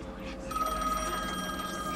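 An old telephone bell rings in the horror video game The Medium, a bright metallic trill that starts after a short quiet moment and then rings on steadily, fairly close and clear.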